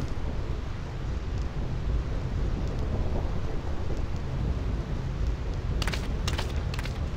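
A steady roar of heavy rain and wind on the Thunder Plains in Final Fantasy X, with crackling electric bursts of lightning near the end over the continuous downpour.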